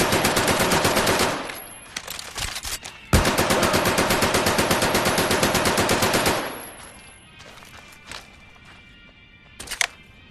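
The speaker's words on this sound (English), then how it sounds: "the MP40 doesn't go wide as other automatic weapons do when firing the entire magazine" An MP40 submachine gun firing in the video game Medal of Honor: Above and Beyond: loud, rapid full-auto bursts, one short then a long sustained stream, followed by quieter handling clicks and a final sharp report.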